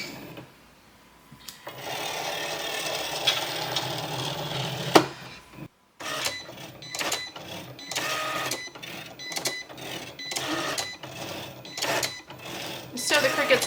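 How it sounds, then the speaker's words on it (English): A Cricut cutting machine with a scoring stylus in its carriage works across paper on a standard grip mat. A steady mechanical whir gives way to rapid, repeated motor bursts and clicks, close and fairly quiet. "So the Cricut's going to score first and then cut"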